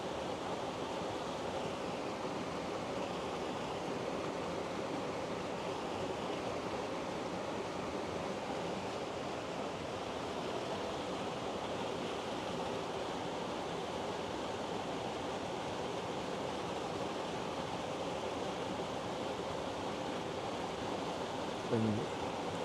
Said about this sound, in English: Got this white water back there coming around the rocks.